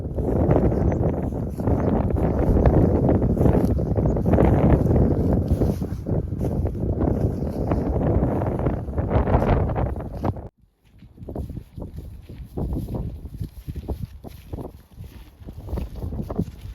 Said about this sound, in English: That wind's getting pretty strong now.